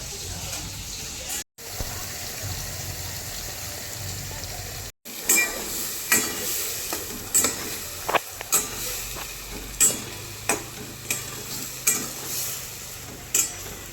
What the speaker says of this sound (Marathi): मसाला पूर्णपणे तेल सुटस्तर फ्राय करायचा आणि वांगे त्याच्यामध्ये पूर्ण फ्राय करायची